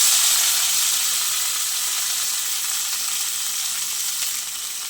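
Steady, loud sizzle of chopped pumpkin leaves frying in oil tempered with nigella seeds and dried chillies, a dense continuous hiss that eases slightly near the end, heard alone and close.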